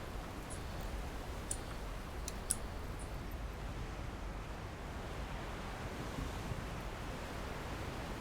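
Ocean waves from the video game Guild Wars 2, a steady broad wash of surf around a large boat at sea, with a few faint clicks early on and no one speaking.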